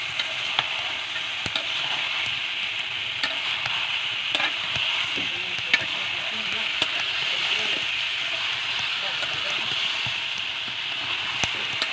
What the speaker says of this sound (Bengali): আর এপাশে ডালে ফোড়ন দিয়েছি পেঁয়াজ আর রসুন।